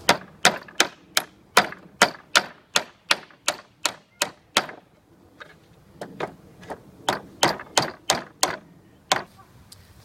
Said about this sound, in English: So I'm just going to hammer back the nails